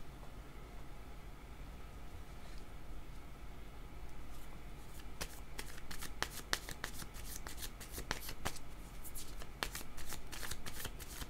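Tarot cards are shuffled close by in a quiet room, with a soft steady rustle that breaks into a run of crisp riffling flicks toward the end.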